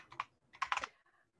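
A short burst of typing on a computer keyboard, two quick clusters of close, crisp key clicks followed by a faint trailing tap.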